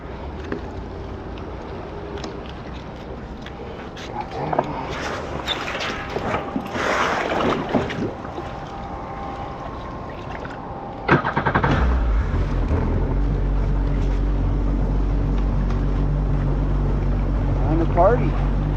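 A jet ski engine runs on open water. Wind buffets the microphone at first, then the engine surges into a loud, steady, close drone that holds to the end.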